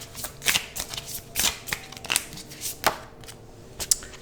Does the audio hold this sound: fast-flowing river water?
no